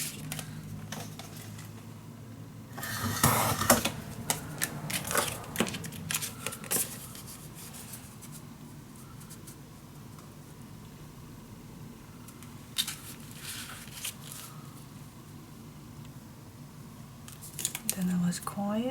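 Scissors cutting paper for a handmade butterfly-themed mini album, with soft snipping and rustling in bursts, loudest early on and again near the end, close and fairly quiet.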